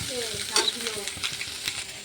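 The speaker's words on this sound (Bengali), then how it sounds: "চলো এবার আমি ভেন্ডিটা ভেজে নিই" Okra (bhindi) frying in a pan, with a steady broadband sizzle and occasional stirring scrapes and light clinks, close and moderately loud throughout.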